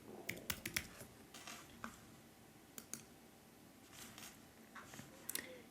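Credentials are typed on a computer keyboard, heard as quiet, close key clicks in irregular quick bursts with short pauses between them.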